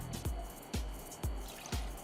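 Gin pours into a mixing glass for a perfect martini, a full 60 ml double measure, in four evenly spaced glugs about half a second apart, close and fairly quiet, with no talking.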